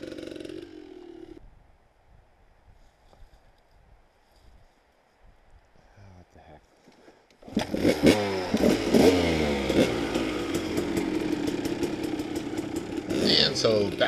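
KTM 250 off-road motorcycle engine revving hard and loud, with repeated throttle blips and rising pitch, after a quieter stretch of distant idling with brief voices; the strong revving dominates the second half.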